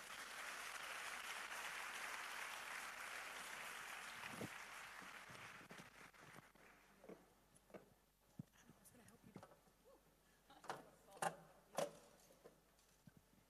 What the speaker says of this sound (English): Another round of applause, ladies and gentlemen, for Laurie Bofils